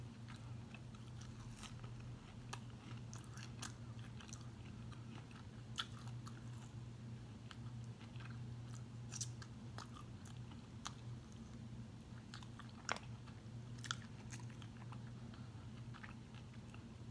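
Someone chews crunchy potato wedges up close, a steady run of faint crisp crunches and bites over a constant low background hum, with no talk.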